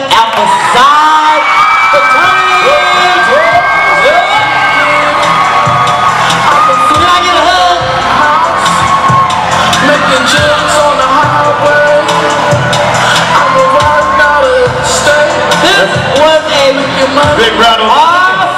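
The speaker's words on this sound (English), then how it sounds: "Big round of applause." Large crowd cheering, whooping and yelling loudly and continuously after the winners of the 2015 Tiger Stomp step show are announced, with a dense, sustained roar of voices throughout.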